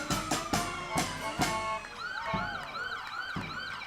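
Brewster Ambulance siren wailing during the Quincy Flag Day parade, a series of sharp horn-like blasts followed by a steady rising and falling yelp, loud and fairly close over crowd ambience.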